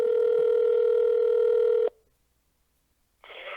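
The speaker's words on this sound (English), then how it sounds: "So if we can get him on the phone" A telephone line gives a steady, loud dial tone that stops sharply, followed by a pause of near silence and then a brief burst of line noise as a call connects.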